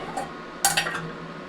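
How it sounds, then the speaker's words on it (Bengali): A bowl of cake batter set down onto heated salt in a metal pan, a few sharp clinks and scraping knocks close by, with one brief tap before the main contact. "কেক বানানোর জন্য গামলিটা বসিয়ে দেবো লবণের ওপরে"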